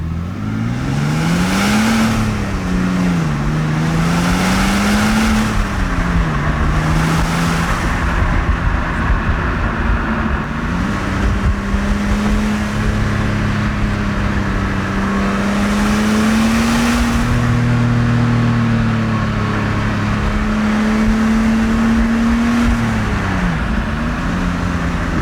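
A BMW 525d Touring diesel engine pulls through the gears, the steady low engine drone rising and dipping with each shift under constant loud road and wind noise.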